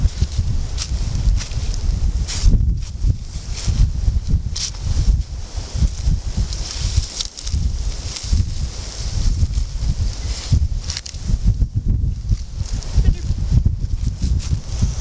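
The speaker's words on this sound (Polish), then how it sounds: "tylko wiatr delikatnie tam podwiewa" Steady gusty wind buffets the microphone outdoors at a fishing spot with low rumbling and rustling throughout, continuous and fairly loud.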